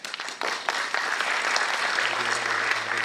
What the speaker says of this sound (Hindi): अभी आपने तालियां बजाया